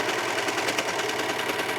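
A serger stitching steadily and trimming fabric with its blade, a fast, even mechanical whir running close and continuous with no talk.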